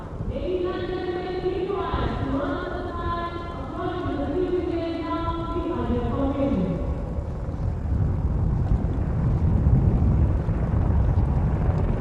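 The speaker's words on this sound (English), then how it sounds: "Apache helicopter victory formation में कर्तव्य पथ के ऊपर पहुंचते हुए" Apache helicopters flying over Kartavya Path in victory formation during a Republic Day parade give a steady, loud low rumble throughout, while a voice speaks over the first half.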